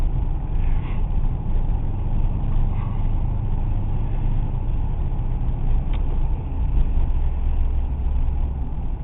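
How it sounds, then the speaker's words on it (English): A Pontiac Trans Am on its stock exhaust idles close by, a steady, dense low rumble that holds an even level throughout with no revving and no voices. "As far as I know, it's still got the stock exhaust on it."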